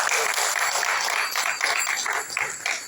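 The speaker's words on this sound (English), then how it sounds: "the Reservoir Hills, Namahatta and team deserve a round of applause" A room full of people at a Kartik hall program applauds steadily for three seconds, a dense, even clatter of many hands with no voices over it.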